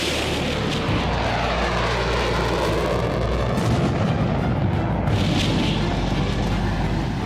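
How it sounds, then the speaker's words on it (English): Fighter jets flying steep-angle dive-bombing practice runs at a tiny target, heard as a loud, continuous roaring jet-engine rush with rumbling low end and no voices. "They practice steep-angle dive bombing runs on a tiny target."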